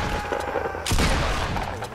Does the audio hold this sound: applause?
no